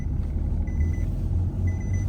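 Seatbelt warning chime in a Renault Clio V 1.0 TCe 100 hp, unbuckled rear belt: repeated short electronic beeps in pairs of bursts over the low engine and road rumble inside the moving car.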